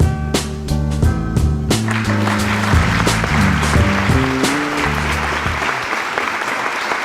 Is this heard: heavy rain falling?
no